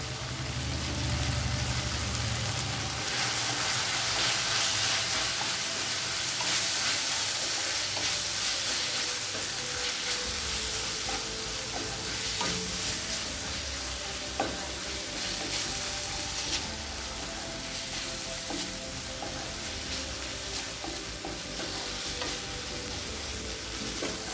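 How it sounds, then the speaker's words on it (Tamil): Tomato and chilli powder masala for egg kothu chapathi sautés and sizzles steadily in a pan, with constant frying crackle and scraping stirs throughout, close and loud, no talk. "மிளகாத்தூள் வாசனை போக 1 நிமிஷம் வரைக்கும் நல்லா வதக்கியாச்சு"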